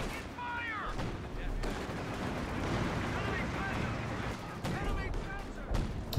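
A 105mm howitzer fires in the Company of Heroes 2 battlefield game, with several dull distant booms scattered among crackling gunfire and battle noise at a fairly low level.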